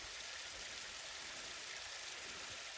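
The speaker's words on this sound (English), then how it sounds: "There's a creek here" A creek running past an old mill wheel along a hiking trail, a steady, continuous hiss of flowing water at low volume with no voices.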